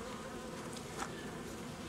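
Honey bees buzz steadily around a queenless nucleus hive, a dense continuous drone close by with no talking, at an even, fairly soft level.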